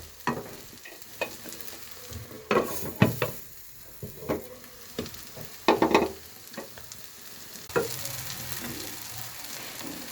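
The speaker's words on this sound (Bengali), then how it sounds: "আচ্ছা আমি একটু ভাজি, আপনারা আমার সাথেই থাকেন।" Vegetables fry in a hot pan with a soft continuous sizzle, broken by several louder scraping stirs and clatters of the spatula, no voices over it.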